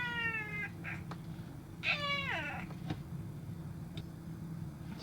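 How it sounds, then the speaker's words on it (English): A cat meows close to a microphone set behind a monitor, several drawn-out meows with one louder rising-falling call near the middle, over a steady low hum. "Sorry, you're gonna have to deal with my cat noises."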